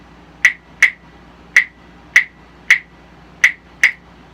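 Two wooden claves struck together in a Latin clave pattern, seven sharp, bright clicks grouped three then two, close and clear with no other sound.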